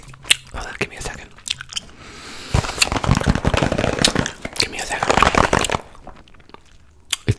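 Close, loud chewing of a thick piece of gum, with wet smacks, crunchy bites and quick popping clicks in an irregular rhythm and brief quiet gaps.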